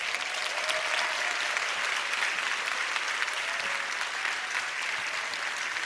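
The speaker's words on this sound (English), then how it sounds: "a very loud round of applause that will keep going for about 20 seconds while he walks to the stage" Loud, sustained applause and cheering from a large conference audience at a maternal and newborn health event as a minister walks to the stage, a dense steady roar of clapping throughout.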